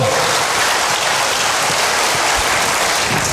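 A church congregation claps for God in loud, dense, steady applause that fills the room with an even roar of many hands and no pauses.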